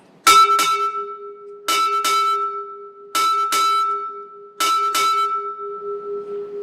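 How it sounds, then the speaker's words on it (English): Eight bright bell strikes sound in quick pairs, four pairs in steady rhythm, each ringing on with a lingering metallic hum. "Sound 8 bells."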